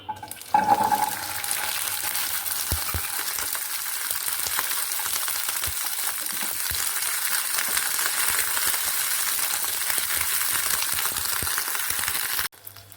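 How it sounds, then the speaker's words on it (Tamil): Small shallots frying in sesame oil in a pan, a continuous bright sizzle with occasional stirring clinks and taps against the pan, close and steady for over twelve seconds without talk. "இப்போ நான் வந்து நல்லெண்ணெய் ஊற்றிருக்கேன். சின்ன வெங்காயத்தை இதில் போட்டுடலாம்."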